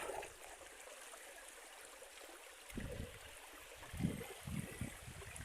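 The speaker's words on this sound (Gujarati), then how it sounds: "જોઈ લો મિત્રો, ડુંગરામાંથી પાણી આવે છે" Spring water from beneath the Sanala hills trickles and gurgles steadily outdoors, a soft continuous stream with a few louder splashing surges, no voices.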